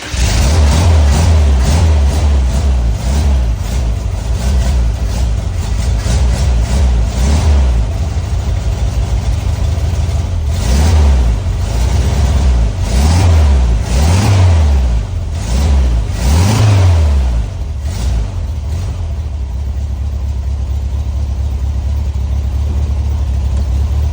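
A 1974 VW Super Beetle engine runs loud and close for the whole stretch, swelling through repeated revs in a bumpy rhythm before settling toward a steady idle near the end.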